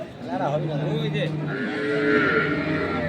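A dairy cow lowing at a busy village cattle market in Dinajpur, a close drawn-out moo with other livestock and people talking in the background.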